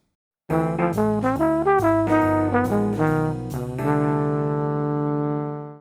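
A bebop jazz line played on piano: a quick ii-V-I run of single notes moving through the chord changes and landing on a held, ringing chord.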